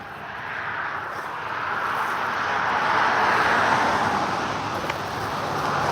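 Distant highway traffic beside the Deschutes River, a broad continuous roar that rises and eases slightly as cars pass, with no talking.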